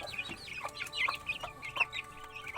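Several backyard chickens cluck in a continuous busy chatter, with overlapping calls and a few louder squawks close by, over a faint low rumble of background noise.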